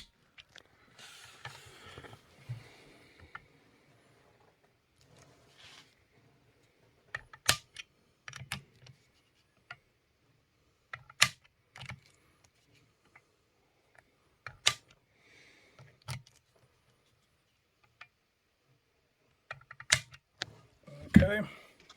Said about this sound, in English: I'm trying to keep my wrist and my arm straight so I keep the same amount of pressure on the torque wrench